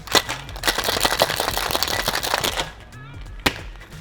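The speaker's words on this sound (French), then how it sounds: "Je referme et remue le shaker." Cocktail shaker packed with ice cubes and crushed fresh mint, shaken vigorously by hand, giving a dense run of rapid rattling clatter for about two and a half seconds, then a short pause and one last sharp knock.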